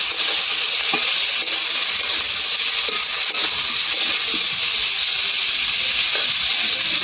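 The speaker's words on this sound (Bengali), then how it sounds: "অল্প করে হলুদ দেব। নেড়ে চেড়ে ভেজে নেব।" Young jackfruit and potato pieces frying with turmeric in a pan, a loud continuous hissing sizzle close up, with faint stirring scrapes and taps scattered throughout.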